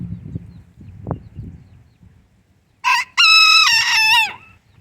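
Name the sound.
rooster crowing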